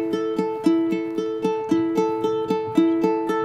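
A ukulele in standard G C E A tuning is fingerpicked in a steady, even pattern, thumb and fingers alternating between two chord shapes; clear bright plucked notes ring out one after another, close and alone.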